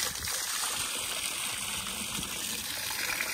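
Water gushes forcefully from a motor pump at a new house construction site, making a constant loud hissing rush that stays even throughout.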